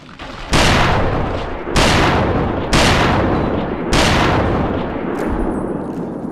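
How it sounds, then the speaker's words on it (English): A minigun fires in the video game Fallout 3 in four loud, sustained bursts of rapid gunfire. Each burst starts abruptly and roars close for about a second, with the bursts spaced roughly evenly. "do what you can with that minigun, why don't you?"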